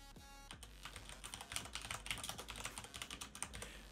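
Rapid, uneven clatter of keys on a computer keyboard, typing steadily and close up for a few seconds after a short pause, with no voices.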